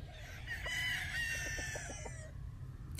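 A rooster crows in a long drawn-out call while hens cluck in short repeated notes underneath, moderately distant, on a game farm.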